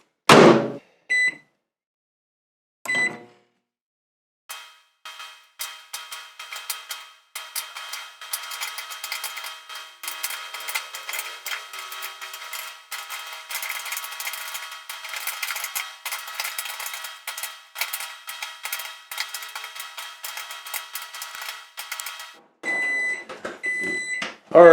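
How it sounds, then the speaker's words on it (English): A small countertop microwave oven heating a bag of habanero popcorn, with door clicks and beeps at the start, then a steady close hum with dense, loud popping spread across the run, and final beeps and a door sound at the end. "Throw it in the microwave."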